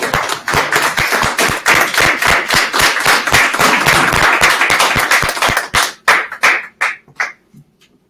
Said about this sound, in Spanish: Un aplauso para Rodrigo.